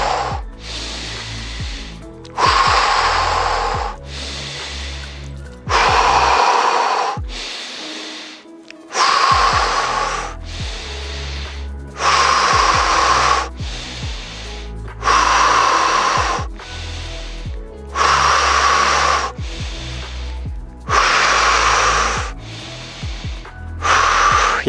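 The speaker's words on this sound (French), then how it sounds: "C'est en inspirant et en expirant à fond." Deep breaths, each lungful drawn in fully and pushed out fully, repeat in a slow, steady rhythm of loud, close, airy rushes during an anti-stress breathing exercise, with a short pause between some cycles.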